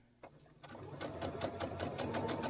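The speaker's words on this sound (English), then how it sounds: "we're just going to do a long straight stitch" A sewing machine runs a long straight stitch across fabric for gathering: one soft click, then a close, steady, rapid needle chatter that keeps a fast even rhythm, with no voices.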